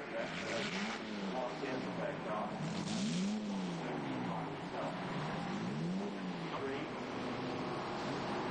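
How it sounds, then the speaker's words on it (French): Historic race cars at Brands Hatch in 1986, including a Merlin 6A and a Lotus 23B, with engines rising and falling as cars pass in repeated sweeps under steady French commentary. "Tony Godwin sur sa Merlin 6A remonte sur Steve Hitchens"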